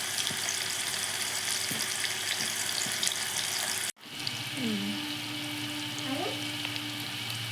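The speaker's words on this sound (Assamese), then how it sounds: "এয়া পনীৰখিনি প্ৰথমতে ভাজি লৈছোঁ" Paneer frying in a pan, a steady hiss and sizzle of oil with faint clinks, broken by a sudden sharp cut midway before the sizzling resumes alongside a few soft tonal squeaks.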